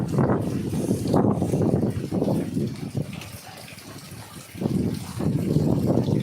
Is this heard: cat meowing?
no